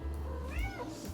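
A pet cat named Bread gives a single short meow, close and clear over a low background hum.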